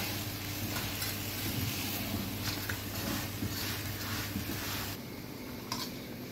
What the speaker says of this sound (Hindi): अब इसमें अंडे डालने लगी मैं। ये इसमें हम फौरन से मिक्स कर देंगे।